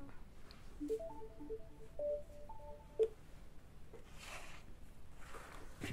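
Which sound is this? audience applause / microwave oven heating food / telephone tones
telephone tones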